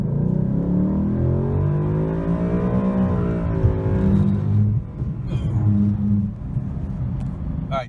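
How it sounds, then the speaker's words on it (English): 2018 Ford Mustang with a 10R80 transmission on an E-85 flex tune accelerating hard with severe wheel hop, a loud rising engine drone that breaks into choppy, stuttering pulses, heard from inside the car with a voice speaking over it. "Well, we now have a severe case of wheel hop."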